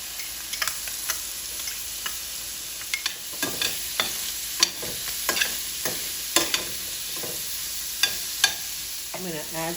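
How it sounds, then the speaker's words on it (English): Ground beef for a quick spaghetti sauce sizzles in a pan with a steady frying hiss, broken by repeated scraping and clacking as a utensil stirs the meat. "We're going to add our ground beef."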